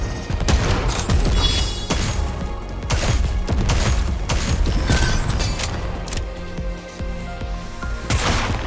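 Dense bursts of gunfire with heavy booms and mechanical clicks of weapons reloading in the NIKKE video game, loud and continuous in rapid volleys with brief gaps.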